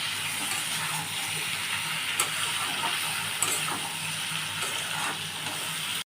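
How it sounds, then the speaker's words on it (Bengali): Potatoes and onions frying in oil with chili powder and turmeric give off a steady, even sizzling hiss, close and moderately loud, with a few faint utensil clicks and no talking. "এবারে এটা আলু ভাজার মতন পুরো ভাজবো বন্ধুরা"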